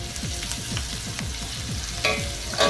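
Spring onions fry in hot reused cooking oil, giving a steady close sizzle with quick stirring scrapes in a rapid regular rhythm and a louder burst of crackle near the end, with no voices.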